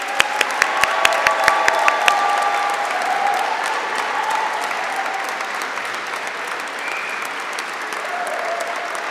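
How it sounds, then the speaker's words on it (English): Audience applause fills a graduation ceremony hall, a steady wash of many hands clapping with a few sharp individual claps near the start, sustained and fairly loud throughout. "give our graduates one final round of applause"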